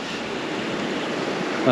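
A clear-water river along the Denali Highway, where Arctic grayling are fished, rushes in a steady, close, broadband wash with no pauses.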